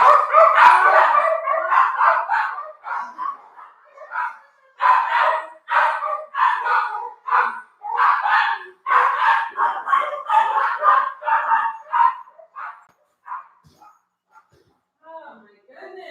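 A dog being walked nearby barks and yips in loud, close bursts, sometimes drawn out toward a howl, repeating for about twelve seconds before thinning out to a few quieter yelps.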